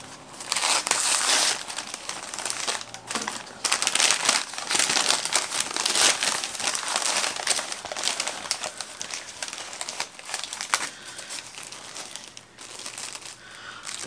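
Paper wrapping around a single-leaf variegated Hoya carrii cutting crinkles and rustles almost nonstop, loud and close, in bursts of crumpling with brief pauses and no talking.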